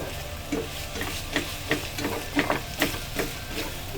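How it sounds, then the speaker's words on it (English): Dumpling filling of mushrooms, wood ear, dried shrimp, diced pork, carrot and dried radish stir-fried with cornstarch in a pan, a steady sizzle broken by regular close scraping strokes of the spatula, about two per second. "So we're just drying up the ingredients here in the pan"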